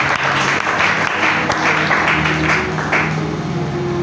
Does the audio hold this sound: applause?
yes